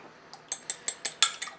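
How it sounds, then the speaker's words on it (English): An egg with a little water being beaten in a bowl: a steady run of about eight sharp clinks, evenly spaced and close, with no talking. "and then beat the egg"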